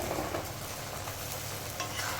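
Raw ginger-garlic spice paste fries in a pan for vegetable khichdi, giving a continuous close crackling sizzle with faint stirring scrapes and no voices.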